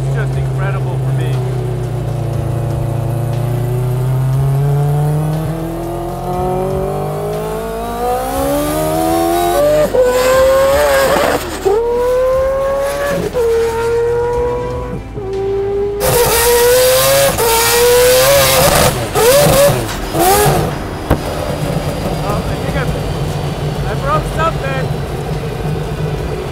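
A four-rotor Mazda RX-7 engine revs hard and climbs steeply in pitch toward 8,000 RPM, loud and close, with a rising whine, brief gear breaks and renewed surges, while people talk excitedly over it.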